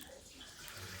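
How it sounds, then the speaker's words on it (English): Curds and whey from Wensleydale cheesemaking poured into a colander at a Yorkshire creamery, a faint continuous watery splashing and pouring rush that swells slightly toward the end. "So I'm going to use my colander to catch the curds in here"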